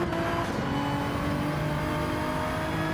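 Race car engines in Gran Turismo 7 drone steadily at high revs, one car closing up behind a Porsche on the final section, with a continuous loud engine tone and no talking.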